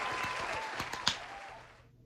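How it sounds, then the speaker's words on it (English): A crowd claps steadily, moderately loud, then the applause thins and fades out toward the end. "Let's give them a round of applause for that."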